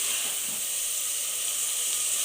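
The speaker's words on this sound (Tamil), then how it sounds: "வெங்காயம் நல்லா செவந்து நல்லா குழஞ்சி வேகட்டும்" Onions fry in a generous amount of oil for a Tamil prawn curry, giving a steady, even hiss and sizzle throughout with no talking.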